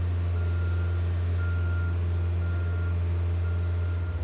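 A JLG boom lift drives forward and backward, its reversing alarm beeping steadily over a loud, constant low engine drone.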